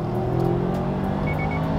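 A manual-transmission car engine wound out in gear gives a steady, loud, close drone with a faint whine rising over it for about two seconds.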